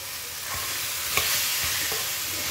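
Onion and three-colour capsicum sauté in a pan for Thai yellow curry, giving a steady close sizzle with a few soft stirring scrapes and a light clink near the end. No one speaks.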